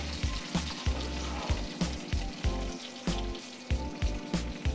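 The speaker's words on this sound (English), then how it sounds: "I'm going to put a half a cup of flour in here with this butter" Half a cup of flour hitting a whole stick of melted butter in a pan for a mac and cheese roux gives a steady, close sizzle, with rhythmic low thumps pulsing underneath throughout.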